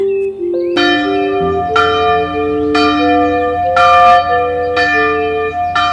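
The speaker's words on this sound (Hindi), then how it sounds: "फिर लंच की घंटी बजती है।" A large school lunch bell rings repeatedly with steady, evenly spaced strikes, each tone ringing on and overlapping the next, loud and resonant.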